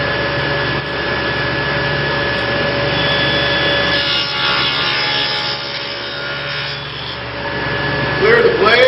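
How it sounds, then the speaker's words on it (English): A dado saw blade cuts a dado across a piece of lumber, a steady loud whining, rasping drone running throughout with a slight rise in grind near the end as the cut finishes. "So let's go ahead and make a dado here."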